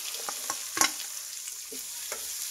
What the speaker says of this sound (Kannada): ಈರುಳ್ಳಿನ ಒಂದು ಸ್ವಲ್ಪ ಎಣ್ಣೆಲಿ ಚೆನ್ನಾಗಿ ಫ್ರೈ ಮಾಡಿ.